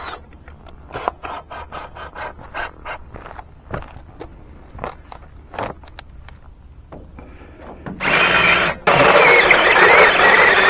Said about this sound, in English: And we'll drill it out with a step bit.